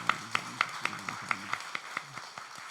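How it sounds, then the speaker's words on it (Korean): A congregation at a Sunday morning church service claps in encouragement, a fairly quiet run of rhythmic, evenly spaced claps with a few voices audible underneath. "우리 힘내시라고 우리 박수 한번 합시다."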